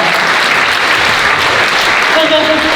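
Theatre audience applauding at the curtain call of the stage play 《螳螂捕蟬》 in a dense, sustained wash of clapping that stays loud and even throughout.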